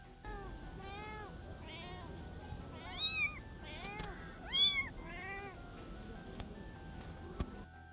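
Stray cat meowing in a run of distinct, rising-and-falling meows, some louder and more insistent, heard alone at close range.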